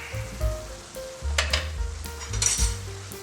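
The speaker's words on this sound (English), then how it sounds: "I like to fry it up just for a little bit" Goat meat for a Punjabi curry sizzling and frying in a pan, a loud close hiss swelling and easing as it is stirred, with a few clinks of utensils and no voices.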